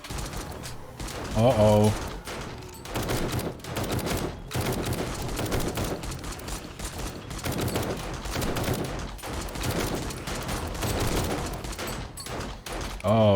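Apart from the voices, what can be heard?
automated turrets firing at zombies in 7 Days to Die video game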